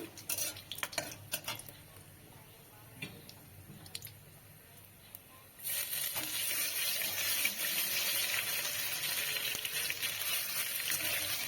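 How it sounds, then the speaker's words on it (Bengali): Whole garam masala, bay leaf and dried red chilies dropped into hot white oil, a few clinks and stirs before a loud, dense sizzle bursts up and holds steadily, close and without talk. "এখানে সাদা তেল দিয়েছি এই যে গোটা গরম মশলা তেজপাতা লঙ্কা শুকনো লঙ্কা ফোড়নে দিয়ে দিয়েছি"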